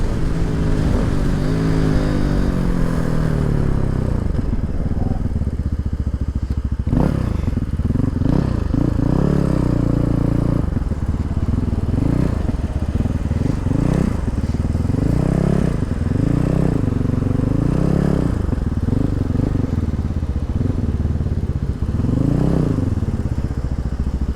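A Cross Country 300 motorcycle is ridden, its engine loud and close, rising and falling in pitch as it revs and shifts through a continuous run, with no talk.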